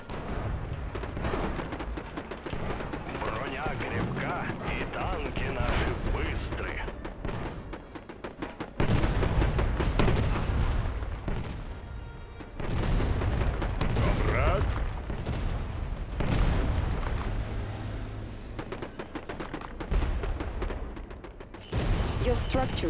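Battle sounds from the WWA RTS mobile strategy game with S-51 self-propelled artillery firing, heavy booms over a dense, continuous roar of combat, engines and explosions, with voiced unit lines mixed in.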